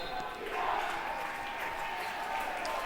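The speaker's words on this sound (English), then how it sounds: "As they're still clapping, they're going to be loud all night" A student section claps steadily at a high school basketball game, a dense, even patter of many hands carrying across the gym at moderate distance, with crowd murmur mixed in.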